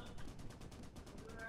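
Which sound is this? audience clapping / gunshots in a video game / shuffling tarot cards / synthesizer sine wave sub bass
gunshots in a video game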